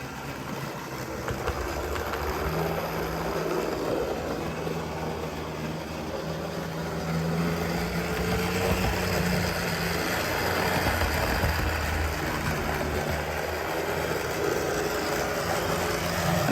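Bachmann GP40 model locomotive in CP Rail livery running noisily around a layout, a steady whirring motor hum with faint rail rumble, continuous and close, with a high-pitched whine above, no talking.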